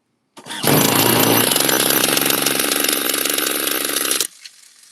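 A small OS 26 four-stroke nitro RC engine bursts into a loud, rapid buzzing run for about four seconds, then abruptly cuts out, leaving quiet afterward.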